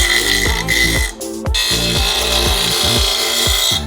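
A cut aluminum intercooler pipe, part of Cobb intercooler piping, is pressed to a spinning grinding wheel, giving a loud steady whirring grind with a rapid repeating rasp and a brief dip near one second.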